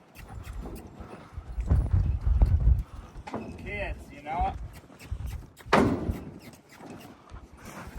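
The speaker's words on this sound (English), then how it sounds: "This is the horse I'm riding right here." Hooves clip-clop unevenly at a walk, close by, with a horse snorting and people talking over the steps, on a cattle drive across Utah's desert.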